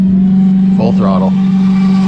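A ProBoat Recoil 2 Shreddy Edition RC boat on a stock 3S battery runs at full throttle, its loud, steady motor whine droning through the whole stretch while a voice speaks briefly over it.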